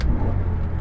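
A manual BMW M5 E60 with its V10 engine downshifts up close, giving a loud, steady low rumble that swells briefly as the revs rise.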